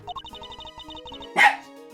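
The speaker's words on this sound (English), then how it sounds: "Stop barking." A short, fast run of small electronic bark-like blips, then a single louder bark, as a dog barks in the game Ace Attorney Investigations 2.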